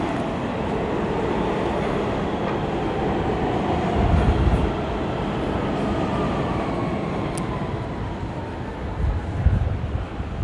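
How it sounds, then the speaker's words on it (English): Manhattan subway train rumbling beneath the street near the Empire State Building, a steady deep roar with rail clatter that swells around the middle and again near the end, heard from street level without talking. "You can hear the subway below us."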